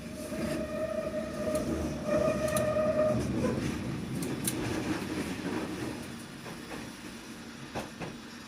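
A London Underground Hammersmith & City line train runs between stations, heard from on board as a steady low rumble of wheels on track. A rising motor whine sounds near the start, then fades into a continuous hum with faint clicks.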